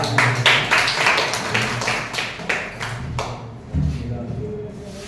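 Small audience at a speech competition claps to welcome a participant, distinct close hand claps in a loose burst that thins out, with voices talking over it.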